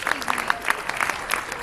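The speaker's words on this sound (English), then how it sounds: "Let's just give everybody a round of applause." Short round of applause from a convention audience at a comic book reading, scattered hands clapping briefly with some crowd noise and faint voices mixed in.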